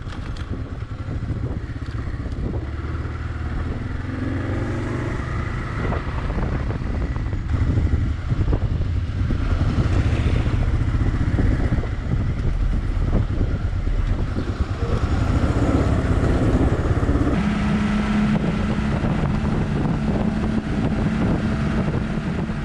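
A motorcycle cruises a flat high desert road, its engine a steady low drone buried in heavy wind rush, continuous and loud without a break.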